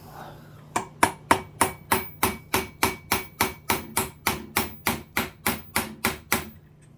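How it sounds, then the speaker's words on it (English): About seventeen sharp metallic hammer taps ring out at a steady rhythm, close and loud, each striking hard against a jammed steel cam extractor with a brief ringing decay. "Do want to use a fairly substantial hammer, and it may take a few taps here."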